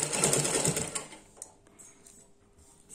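A sewing machine runs in a fast buzzing burst as it stitches the shoulder joint of a baby frock, then stops and leaves faint mechanical clicks, close up and without speech.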